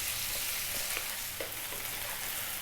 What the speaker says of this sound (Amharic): ይኸውላችሁ እየተጠበሰ